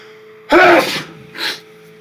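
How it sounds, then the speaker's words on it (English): A single loud human sneeze bursts out close to the microphone, trailed by a shorter, softer exhale a moment later, with a faint steady hum underneath. "Just a loud sneeze."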